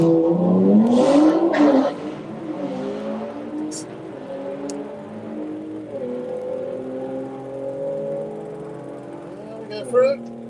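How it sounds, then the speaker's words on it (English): Subaru and a 9-second BMW drag car idle and rev on a drag strip start line, engine note rising then settling into a steady loud drone, with a brief sharper burst near the end. "Our Subaru and the 9-second BMW back on the start line."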